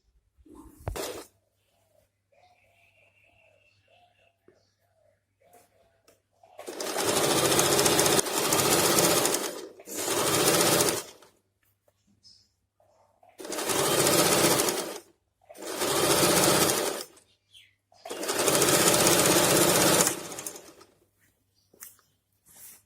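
A sewing machine stitches the curved crotch seam of a pair of pants in five long bursts of running, separated by short pauses, loud and close with no talking.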